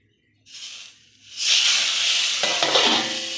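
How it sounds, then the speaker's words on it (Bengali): Pabda fish hitting hot mustard oil in a pan: after a soft hiss, a loud, close, sustained sizzling splutter swells and runs steadily to the end, with a few crackling pops and no talking. "এবার আমি মাছ দেবো কিন্তু খুব ফাটবে ভয় লাগছে"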